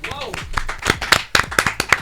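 A few sharp hand claps from news-show hosts in a live broadcast studio land irregularly beneath continuous talking, close and fairly loud.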